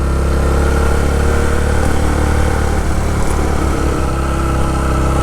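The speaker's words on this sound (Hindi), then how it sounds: "बाइक जो है ये काफ़ी अच्छा खासा ज़ोर लगा रहा है" A motorbike engine labours hard on a steep, clear mountain road climbing toward Noori Top from Sharda in the Neelum Valley, a steady loud close drone held under heavy load without letup.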